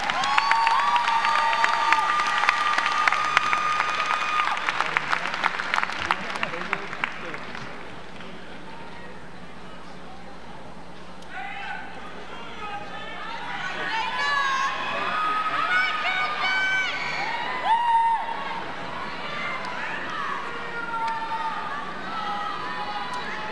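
At a Florida A&M University graduation ceremony, an audience applauds and cheers with scattered whoops and shouts. The sound fades out, then a second wave of cheering and crowd noise rises, with voices mixed in.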